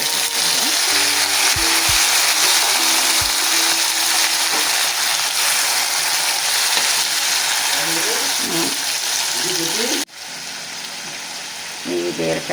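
Ridge gourd pieces go into a hot tempering of fried mustard seeds, dals and dry chillies, giving a loud, dense sizzle that holds steady, then drops in level near the end as the frying settles.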